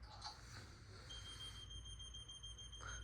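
A Family Guard FG888D smoke alarm, a rare white-button model, sounds faint, steady high-pitched tones that begin partway through and hold continuously over low background noise.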